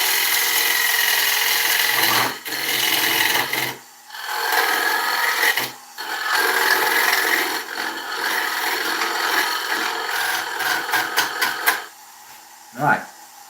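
Squared carbide-tip tool cutting a tenon on an oak bowl spinning on a lathe: loud, close, continuous rasping and scraping in long passes, broken by a few short pauses and brief knocks.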